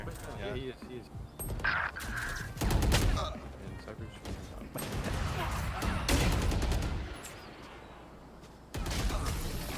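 Gunfire in a tactical shooter video game comes as several dense bursts of rapid shots, layered under lively commentary with people talking throughout.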